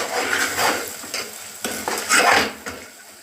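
Chili powder stirred into hot oil in a pan while making drumstick dal, with a utensil scraping and clinking against the pan over a faint sizzle in short, uneven strokes.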